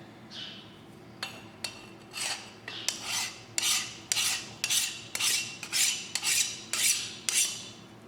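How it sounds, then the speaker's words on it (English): A file rasping along a skinning knife blade, about a dozen rhythmic strokes in steady succession, close and clear, each stroke a bright scraping burst, with no talking. "I'm gonna try a different file just to make sure."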